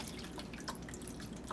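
Water trickles and drips into the reservoir of a Cuisinart Grind n Brew coffee maker, a brief, faint splashing with small droplet patters.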